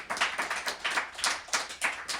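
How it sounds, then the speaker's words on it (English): Light, polite golf claps from a small audience at a poetry performance, a soft patter of scattered hands in quick rhythmic bursts, close and fairly quiet, with no talk over it. "I like these little golf claps"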